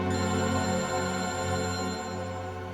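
A mobile phone ringtone plays loud and steady, a sustained electronic tone with layered harmonics that holds for the whole span and tapers slightly at the end.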